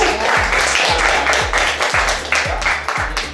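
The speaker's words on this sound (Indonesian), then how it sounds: "Tepuk tangan dulu dong untuk Indonesia." An audience at an Indonesian interfaith harmony talk applauds steadily, a dense wash of many hands clapping throughout with rhythmic low thumps underneath, loud and continuous.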